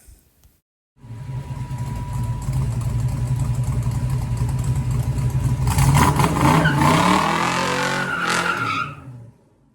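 On a first line-lock burnout attempt with the brake not held hard enough, a car's engine revs up after a brief silence and roars steadily. Tire squeal and skidding swell near the end before stopping abruptly, loud and close.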